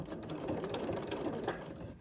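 A sewing machine stitches steadily through a greeting card during free motion sewing, its fast mechanical whir continuous and close for the whole stretch, with no voices.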